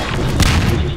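A single rocket explodes in a Half-Life 2 Deathmatch match, a short, loud, close boom with a broad thudding body that fills the whole second.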